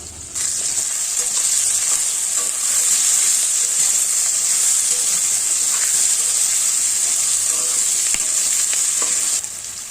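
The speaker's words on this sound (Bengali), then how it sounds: "এরপর পেঁয়াজ কুচি দিয়ে নেড়ে চেড়ে পরিমাণ মতন লবণ দিয়ে নাড়তে থাকুন।" Chopped onion frying in a pan while being stirred with salt, giving a loud, steady, bright sizzle throughout with occasional scraping stirs and no talking.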